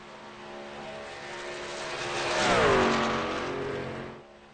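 A race truck engine roaring past on a lap at Daytona in a Super Speedway Series event, a sustained drone that swells as it approaches, peaks with a pitch drop and fades away.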